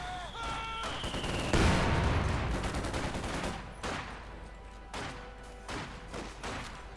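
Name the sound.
gunfire in Company of Heroes 2 video game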